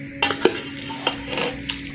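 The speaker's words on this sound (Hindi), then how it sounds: "इसको अच्छी तरह मिक्स कर लेंगे" Mutton kachnar curry stirred in a cooking pot after water is added, giving a few scraping clinks of a spoon against the metal over a faint sizzle, close and moderately loud with no talk.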